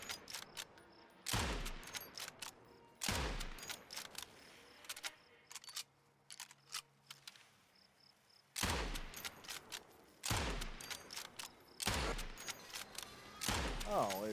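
Gunfire from shooting at an enemy in the Nightingale video game, arriving as several loud bursts of shots spread across the stretch, with quieter gaps between them.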